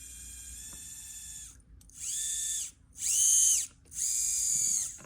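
A brushless motor newly installed in an SCX24 RC crawler whirs in three separate bursts, each rising in pitch and holding a steady high whine before cutting off, with a faint shorter spin-up first; close and alone.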